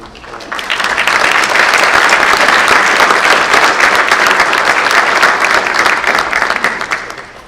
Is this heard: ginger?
no